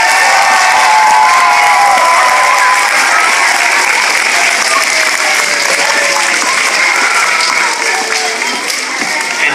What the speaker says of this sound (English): How about one last round of applause for Ethan?